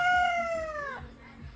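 A rooster in Toledo City crows nearby, a long harmonic call that bends downward and trails off, with low rumbling background noise underneath.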